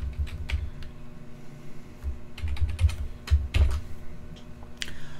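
Fingers tap out a password on a computer keyboard, irregular clusters of close, crisp key clicks with short pauses between them.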